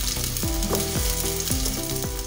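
Onions fry in a pan with a loud, continuous close-up sizzle, while a repeating tonal sweep recurs roughly every half second beneath it and no one speaks.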